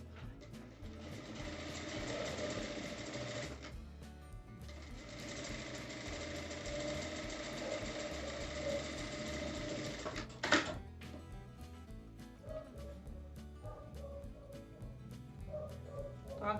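Steady whirring of a sewing machine stitching a folded fabric strip for a drawstring bag, running loud and close in two long runs before stopping, followed by quieter handling clatter.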